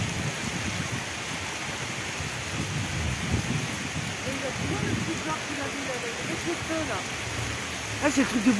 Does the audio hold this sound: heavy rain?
yes